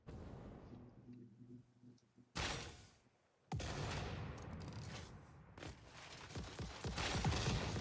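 Gunfire from a player shooting another player in the factory-building video game Satisfactory: bursts of loud, broadband shots after a quiet start, with a short gap, then sustained rapid firing to the end.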